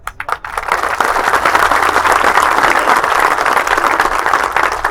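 A crowd at a public speech in Shaheen Bagh, Aurangabad breaks into applause. A few separate claps open it, then loud, dense clapping continues steadily to the end.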